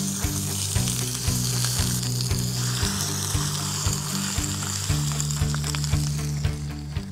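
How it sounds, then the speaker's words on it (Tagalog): Chicken searing in a hot pan, a loud continuous sizzle and crackle close up, with light rhythmic tapping and stirring sounds throughout. "I'm just basically going to sear it."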